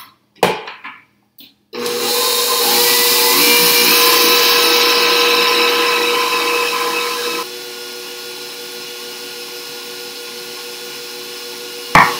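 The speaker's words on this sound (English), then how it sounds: "the mixer's finally done. I have a beautiful yellow meringue" An electric mixer whipping meringue tinted with yellow food coloring, a loud steady motor whir that starts after a few clicks, then drops to a quieter lower speed partway through before stopping.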